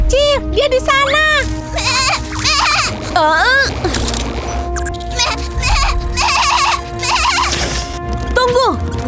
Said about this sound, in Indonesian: Aku menemukan domba kecil.